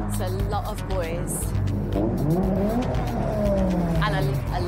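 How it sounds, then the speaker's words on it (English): Loud cars rev and accelerate at a crowded supermarket car park meet, engines rising and falling in pitch through several pulls, with a short tire squeal and people talking underneath. "And a lot of loud cars."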